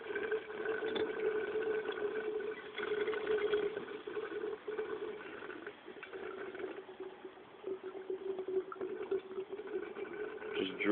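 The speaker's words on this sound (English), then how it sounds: "The return line is gargling still." A V3 Scorpion pump return line gargles vegetable oil, giving a steady bubbling, liquid churn over a constant low mechanical hum that runs unbroken and fairly close throughout.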